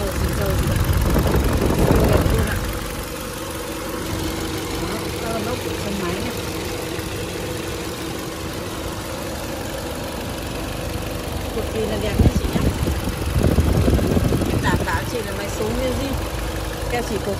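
A 2019 Kia Cerato Luxury with a 1.6-litre engine and automatic gearbox idles steadily at moderate level, a smooth continuous hum with louder bursts near the start and toward the end.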